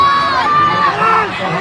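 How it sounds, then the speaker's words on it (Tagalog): Spectators at a motorcycle race shout and cheer as a 250cc Honda CRF rider takes the lead, a loud, sustained crowd roar with high whoops and children's shrieks rising and falling throughout. "Sigawan yung mga tao mga idol."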